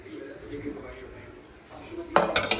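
A frying pan is pulled out in a home kitchen before frying surmai fish, with a burst of metallic clanks and rattles near the end after quiet background and faint talk.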